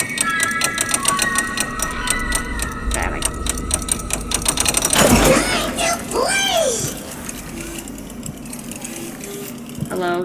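A crank being turned in the FNAF horror game: rapid ratcheting, gear-like clicks run for several seconds, ending in a louder clunk and squeal.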